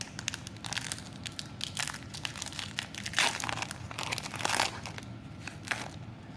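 An Eldritch Moon booster pack's foil wrapper crinkles and tears open up close, with irregular bursts of crackly crumpling that swell in a couple of louder rips partway through.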